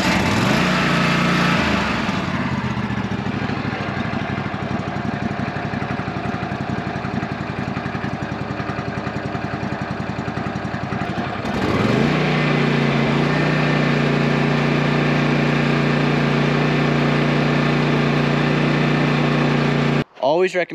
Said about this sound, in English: let's start this up. We'll idle it down